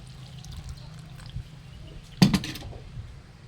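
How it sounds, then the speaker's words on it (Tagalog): Water is poured into a pot where a pork leg is boiling, a faint soft trickle followed by a brief louder splash and clatter of liquid near the pot. "dagdagan natin tubig na"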